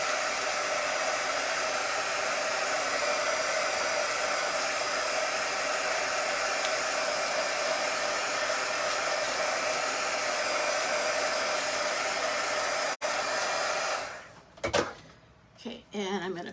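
Hair dryer blowing steadily on a handmade greeting card, a loud continuous close whoosh that cuts off near the end, followed by a few handling knocks.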